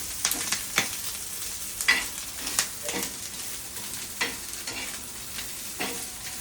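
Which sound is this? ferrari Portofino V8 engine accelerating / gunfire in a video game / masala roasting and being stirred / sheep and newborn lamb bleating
masala roasting and being stirred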